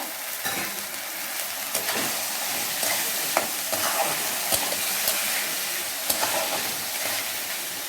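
Potatoes and chickpeas go into a pan of spiced paste with green chilli for a vegetarian papaya and potato chickpea curry, sizzling loudly and steadily. Periodic scrapes and clacks of stirring sound throughout.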